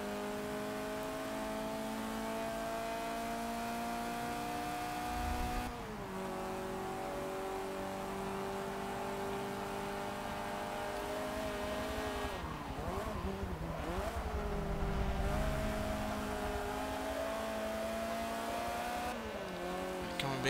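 A Honda Civic hot hatch races in Forza Motorsport 7 with a loud, sustained engine drone that climbs through the gears, dips on shifts and lifts off into a corner midway before revving hard again.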